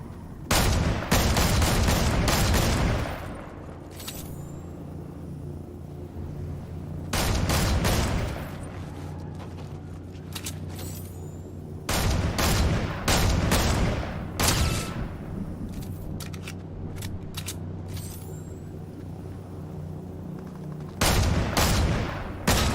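Turret firing in the video game Fortnite, four loud bursts of rapid gunfire separated by quieter stretches of game ambience, each volley lasting a couple of seconds.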